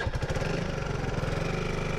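A Suzuki Burgman AN400 scooter engine runs at a steady idle just after starting, a close, even low throb with a regular pulsing beat throughout.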